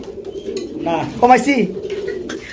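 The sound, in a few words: pigeons cooing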